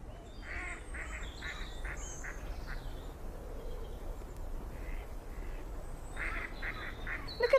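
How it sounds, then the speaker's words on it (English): Ducks quack in short repeated bursts, heard at a moderate distance over a steady outdoor background hum, with a louder cluster of calls near the end. "Look at those ducks over there."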